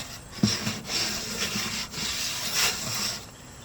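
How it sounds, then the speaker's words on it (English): A shop rag rubs set-in grime off a guitar, giving close, loud, repeated swishing strokes with a sharp bump near the start and rhythmic back-and-forth friction throughout. "I'm going to polish it with a normal rag"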